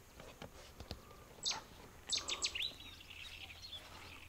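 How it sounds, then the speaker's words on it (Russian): A cuckoo calls from a tree on a morning outdoors by a fishing spot, a few short bright notes at a distance, with one call followed quickly by a cluster of three. "Вот это, блин, кукушка"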